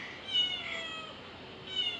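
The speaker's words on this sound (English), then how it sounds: "He's meowing." A pet cat meows in two short, fairly faint calls, one near the start and one near the end, with a quiet indoor background between them.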